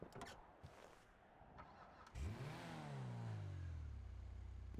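In a video game, a car engine cranks and fires up, then settles into a steady idle after a quick rev, with some faint background noise beforehand.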